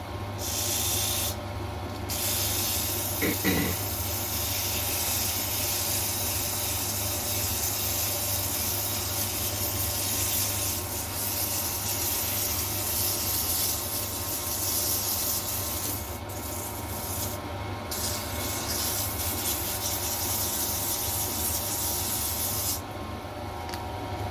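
Sandpaper rubbing against a spinning wooden wand on a lathe produces a steady, continuous hiss with a low motor hum underneath, holding evenly for the whole stretch with a few brief dips.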